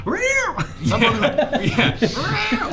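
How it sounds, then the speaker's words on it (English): Agitated cat meowing and yowling in a tabletop game session, loud harmonic wails rising and falling at the start and again near the end, with people talking and laughing over the middle. "Someone let the cat out, please."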